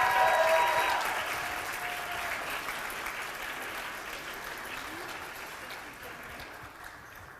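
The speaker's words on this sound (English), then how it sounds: "Let's get one more round of applause," Wedding reception guests applaud at Terraview at Stroudsmoor Country Inn in Pennsylvania. The dense clapping is loudest at the start, then slowly thins and fades over several seconds.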